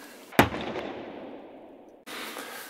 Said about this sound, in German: schauen wir uns erstmal den Schusstest an, was ich mit dem Gewehr zusammenbekommen habe